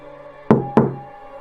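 Two sharp, hollow knocks on a door, evenly spaced and close, ringing briefly in an otherwise quiet room as a horror-story effect.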